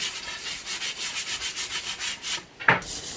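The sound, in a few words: sanding wooden wild rice knocker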